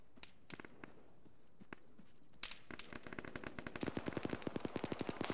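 A BRDM's DShK heavy machine gun in the Arma video game fires scattered bursts at first, then a fast, sustained rattling stream of sharp shots growing louder toward the end.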